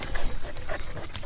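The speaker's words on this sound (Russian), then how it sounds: "Вот эта маленькая собачка, она очень маленькая, кстати." Small dog in a video game panting quickly with faint whimpers, a close rapid rhythm of breaths filling the moment.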